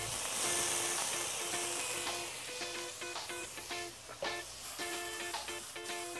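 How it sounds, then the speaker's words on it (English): Shallots, garlic and lemon sizzle in a hot pan with a soft, steady hiss, heard faintly with tonal background sounds running alongside. "You want a nice hot pan and some shallots."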